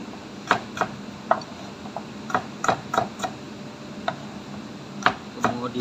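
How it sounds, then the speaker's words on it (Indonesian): Knife chopping peeled shallots on a cutting board while preparing pepes gurame, sharp irregular taps in quick bursts, close and clear with faint background hum. "Kemudian bawang merah yang sudah dikupas juga dipotong seperti ini."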